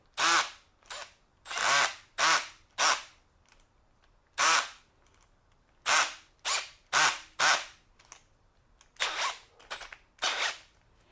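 A Milwaukee installation drill/driver whirring in repeated short bursts, each run lasting under a second with brief pauses between, close and alone in a quiet room.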